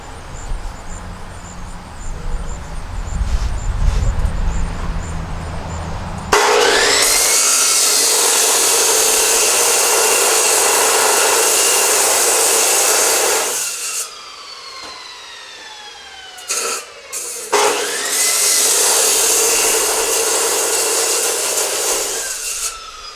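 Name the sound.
cutting copper ends off a big copper stator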